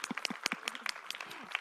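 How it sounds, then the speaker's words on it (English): Faint, sparse clapping from a conference audience at the close of the third day of a tech event, a brief patter of separate claps with voices murmuring beneath. "Let's give a massive round of applause for everyone who's been involved over the last 3 days"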